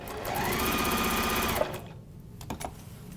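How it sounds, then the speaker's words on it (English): A sewing machine stitches rapidly for about a second and a half, then falls quiet apart from a few faint clicks. "I don't have a blanket stitch on this machine. So I'm just going to go backwards and forwards a bit on it."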